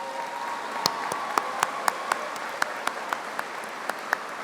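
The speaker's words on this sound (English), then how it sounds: "Please join me in another round of applause." Applause at a university commencement ceremony comes through as sparse, evenly spaced claps, each sharp and distinct, heard at moderate distance over a faint steady background hum.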